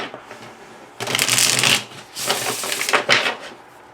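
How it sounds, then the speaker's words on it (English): A thick linen-finish tarot deck with gilded edges is riffled and shuffled in two long bursts of crisp, fluttering card noise, close and loud, with a short pause between them. "I'll shuffle again."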